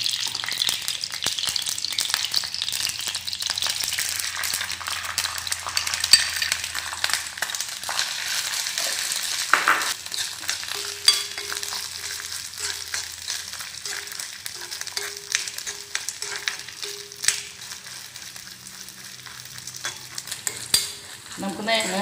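Small coconut pieces fry in ghee for unniyappam, giving a steady close sizzle with scraping stirs and crackles throughout, no talking.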